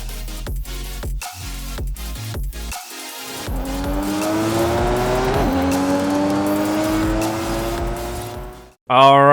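A 250 hp Nissan 240SX drift car in Forza Horizon 5 revs in sharp bursts, then holds a loud, rising engine drone with tire squeal through a long slide, ending in an abrupt cut.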